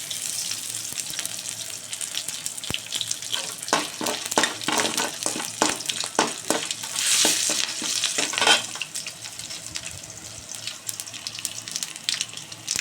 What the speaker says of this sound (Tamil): கடுகு பொரிச்சு பாருங்கள்